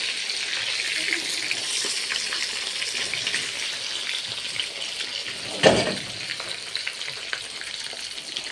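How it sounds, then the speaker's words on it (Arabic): Peppers sautéing in a shared pan for a one-pot moussaka produce a close, steady sizzle with stirring scrapes and one sharp clatter midway. Faint background voices may be present. "ممكن احط الفلفل كده برضو ياخد له تشويحة معاه."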